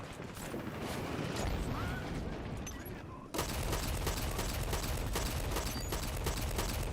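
Automatic weapon fire in the shooter game Dirty Bomb: a busy firefight, then a sudden switch to a fast, unbroken stream of loud, closely spaced shots that runs to the end.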